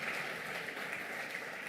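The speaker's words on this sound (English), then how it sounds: "Come on, a huge round of applause, ladies and gentlemen." An audience at a fashion show claps in a dense, steady burst of applause, loud and filling the room for the whole brief moment.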